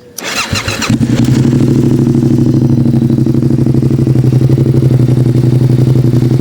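A Yamaha MT-07 (2021) motorcycle with a full MIVV exhaust system cranks and catches, then settles into a loud, steady, throbbing idle with a rapid rhythmic pulse.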